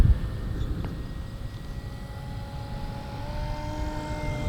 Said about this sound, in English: We'll get a low pass on the downwind.